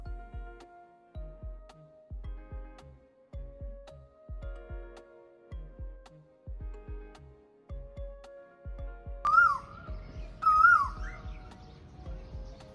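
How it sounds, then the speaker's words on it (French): An Asian koel cuckoo in a park at Nong Khai, Thailand, gives two loud rising whistled calls close together near the end, over a steady rhythmic low thumping in the background. "Vous entendez ce chant? C'est celui du coucou Koel"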